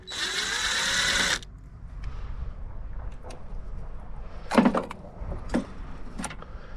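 Power driver whirs briefly to pull the last screw from the carburettor top of a 1970s VW Beetle, then metal parts clink and tap sparsely nearby.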